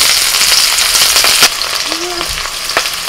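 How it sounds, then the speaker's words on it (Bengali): Vegetables frying in oil in a wok for chicken pasta give a loud, steady sizzle with a few sharp scrapes and clatters of stirring, heard alone without talk. "আবারও কড়াইতে তেল দিয়ে দিয়েছি। এবার সবজিগুলো একটু ভেজে নেব।"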